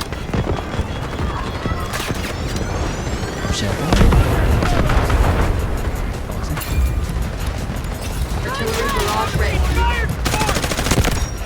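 M4A1 rifle fire in the Delta Force game's trench warfare mode: repeated close bursts of automatic shots over a dense, noisy battle backdrop, with further distant firing throughout.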